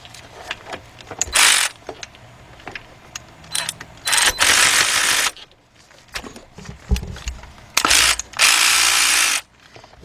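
Ratchet working a 10mm bolt off a bracket during head gasket work on a 2006 Kia Sportage EX 2.7, heard as several loud, close bursts of rapid clicking separated by quieter gaps of handling noise.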